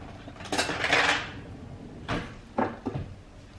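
A bowl being taken out in a home kitchen, with dishes clattering: a cluster of ceramic clinks and knocks up close, then a few sharper separate clatters.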